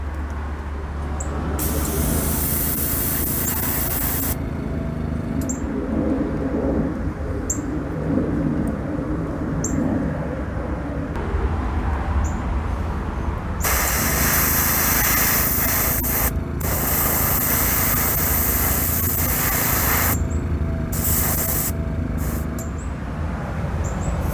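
Airbrush spraying House of Kolors paint, a steady close hiss that runs in long bursts with brief pauses and near-silent gaps between passes.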